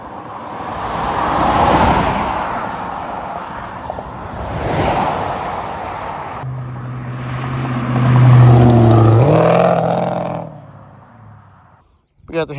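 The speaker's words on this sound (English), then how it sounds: "I think I'm gonna wait for one more car or one more pack of cars here" Cars driving past down a hill road: two whooshing passes swell and fade, then a louder engine drone climbs in pitch before dying away.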